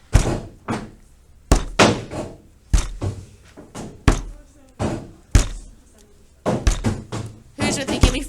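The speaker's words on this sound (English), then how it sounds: "form it into a block by kind of pounding it at angles to make a block" Heavy, dull thuds of clay being pounded at angles into a block for a pinch pot, about a dozen blows in a steady rhythm, each a close, loud smack with a short decay.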